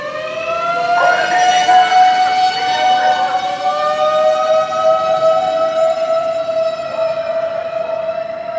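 Emergency vehicle sirens wail loudly along a Tokyo street, a steady rising-and-falling tone holding for the whole stretch with layered harmonics, fading slightly toward the end as they pass.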